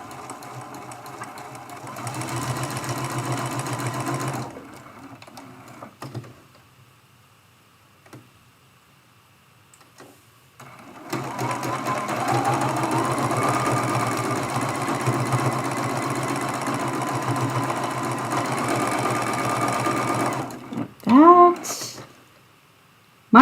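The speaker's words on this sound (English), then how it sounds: "I'm going to sew all the way off the edge." A sewing machine stitches a churn dash quilt block, a steady close mechanical whir in two long runs separated by a quiet pause, with a few handling clicks near the end.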